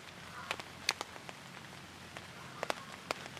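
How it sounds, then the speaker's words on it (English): Rain drips off the lower slanted end of a tarp at a wild camp, with scattered close, sharp drops falling irregularly over a soft, steady background hiss. "as you can see, the rain is dripping off the tarp on the lower slanted end"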